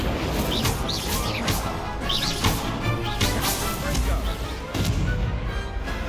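Spellcasting blasts in Hogwarts Legacy, including the Confringo explosive spell, land as a string of sharp cracking bursts and whooshes in a busy duel, one after another with little pause.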